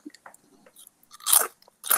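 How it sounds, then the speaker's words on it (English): Walkers Max Double Crunch barbecue ribs crisps being bitten and chewed close up, a few small crackles followed by two loud crunchy bites, one long and one shorter, with no talking. "The Double Crunch are very, very good, and they crunch as good as they say they do."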